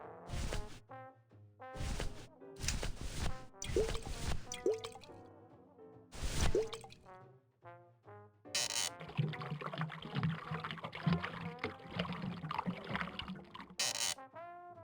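Fake ocean water poured into a diorama in the video game Grim Fandango: a series of distinct wet drips and plops, then a longer splashing pour, each sound cleanly separated by silence.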